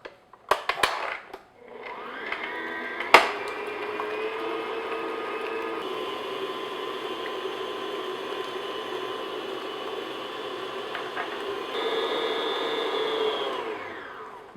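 Eggs being beaten into oatmeal raisin cookie dough with an electric mixer, a steady whirring drone running for several seconds after a couple of sharp knocks, loud and close with no talking.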